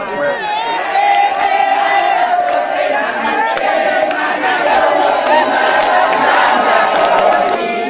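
A huge crowd of widows, war-disabled, orphans and paralysed people raises a hymn of thanks together, a loud, dense wall of massed voices that carries steadily from start to finish.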